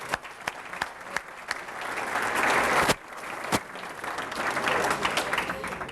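An audience applauds steadily after a morning community forum, a dense wash of clapping with a few sharper claps standing out near the front, holding at an even level throughout.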